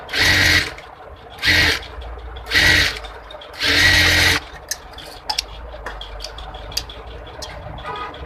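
A sewing machine topstitches a bra-cut blouse in four short, close bursts of rapid stitching, followed by quiet handling noises.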